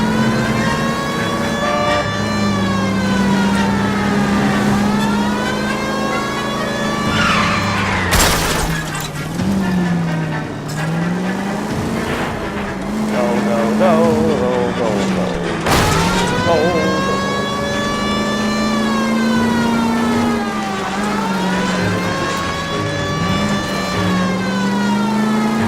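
In the L.A. Noire video game, a police car races along with its siren wailing continuously in rising and falling sweeps over loud engine roar. Two sudden crashes break through the noise, with no talking.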